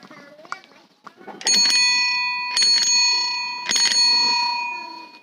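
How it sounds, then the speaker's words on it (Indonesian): Sigul bell on a Raleigh Jengki bicycle, three bright ringing dings with long shimmering tones after some faint handling noises, loud and close, no talk. "itu tadi contoh dari sound belnya"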